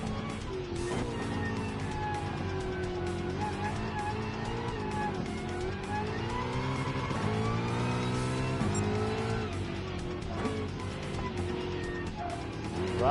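A small car races in a PlayStation 4 driving game with a steady, loud engine drone, rising and falling pitch as it revs and shifts, and occasional tire squeal, running continuously throughout.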